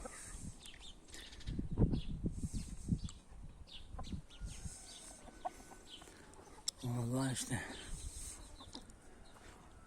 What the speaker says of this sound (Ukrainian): Мій бойовий півник.